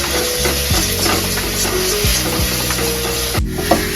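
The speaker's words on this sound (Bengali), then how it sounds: "এখন ভালো করে চুল্লিটা দিয়ে এইভাবে করে ফ্রাই ফ্রাই ছোটো ছোটো পিসের মতো ঝুড়ি ভাজা করতে হবে" Chopped onion and chili fry in a wok with steady sizzling and repeated stirring scrapes against the metal, loud and continuous throughout.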